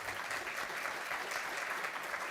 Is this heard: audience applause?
yes